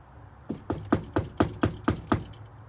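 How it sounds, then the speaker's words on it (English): About nine firm knocks on a locked front door with no doorbell, struck in a fairly even rhythm, close and solid, each a sharp thud with a short ring, then quiet. "There's no doorbell, so you gotta knock with vigor."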